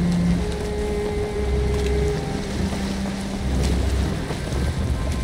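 A sailing boat in the Valheim video game creaks over ocean waves, with continuous wind and water rush, low wooden groans and a sustained tonal whine, loud and without speech.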